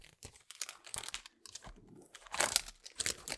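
A large paper envelope of stickers being handled and torn open, with crinkling and tearing bursts in uneven runs, loudest near the end, close and fairly quiet.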